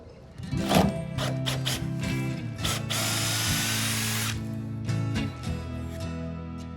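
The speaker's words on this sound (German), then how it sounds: "Am besten ging das durch Herausdrehen der Schrauben." A power drill backing screws out of a wooden frame on an electric cabin scooter, with repeated whirring bursts of the motor, close and loud, separated by brief pauses.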